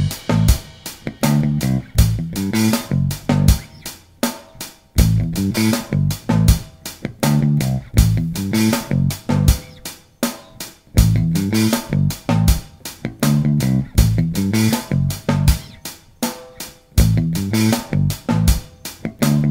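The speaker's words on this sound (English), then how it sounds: "we're going to be looking at some palm muting, and the riff sounds like this." Bass guitar riff played with a pick using palm muting, tight clipped notes in a steady driving rhythm of repeated short phrases with brief rests, close and alone without any talk.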